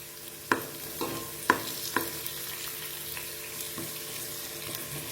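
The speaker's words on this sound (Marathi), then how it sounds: "1 चमचे जिरे टाकून घेते" Cumin seeds drop into hot oil and sizzle softly, with a few sharp spoon clinks and stirring knocks against the pan over a steady low frying hiss; no one speaks.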